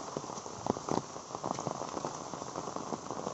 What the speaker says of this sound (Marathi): त्यातच हा पाऊस पडत आहे, पावसाचा जोर वाढलेला आहे, मुसळधार पाऊस संततधारवरून मुसळधारवरती गेलेला आहे